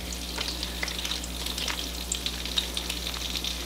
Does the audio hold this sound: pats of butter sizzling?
yes